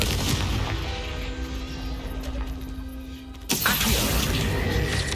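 A Confringo fire spell blast from Hogwarts Legacy, a sudden loud burst partway through over a busy game soundscape with a steady ambient bed, with no talking.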